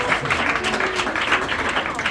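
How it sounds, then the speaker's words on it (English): Steady, dense applause from a live audience at a magic show in Nashville, a continuous wash of many hands clapping at moderate volume throughout. "Round of applause for Lori."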